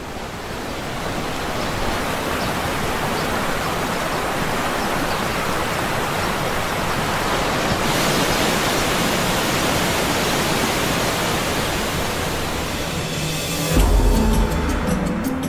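The Nile River rushes through its rocky cataracts in a continuous loud roar of turbulent white water, steady throughout, with a brief deeper surge near the end and no voices.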